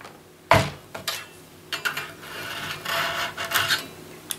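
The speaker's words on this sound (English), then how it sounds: "trim up a little bit more with the chisel" A chisel trimming wood by hand, close and fairly quiet: a sharp scrape, then a series of short rasping strokes in an uneven rhythm, no talking.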